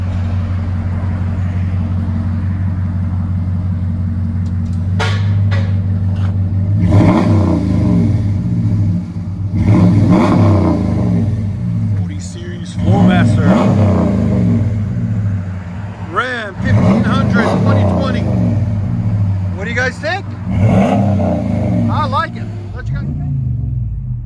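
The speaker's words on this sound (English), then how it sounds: "Flowmaster always sounds so deep on those, man." A RAM 1500 pickup with a 5.7L HEMI V8 and Flowmaster exhaust idles with a deep rumble, then revs in several loud, throaty bursts up close, while people talk over it.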